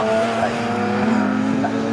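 Saloon race cars lap Snetterton circuit, their engines holding a steady, close droning note throughout with no break or pause.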